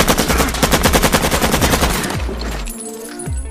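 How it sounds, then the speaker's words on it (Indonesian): Rapid machine gun fire from an ambush from behind in a film about the Iraq War, a dense continuous burst of loud shots that tapers off, followed by scattered single rounds and ringing echoes. "tiba-tiba saja dari belakang diberondong tembakan"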